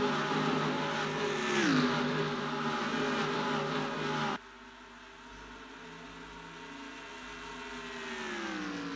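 Race car engines in a racing video game roar past with a sharp pitch drop as one car passes, followed by quieter droning engine tones from other cars farther away.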